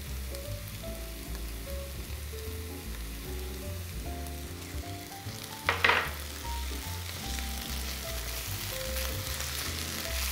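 Onions frying with red pepper paste in a pan for Lenten dolma give a steady sizzle under background music, with one brief louder scrape or hiss midway.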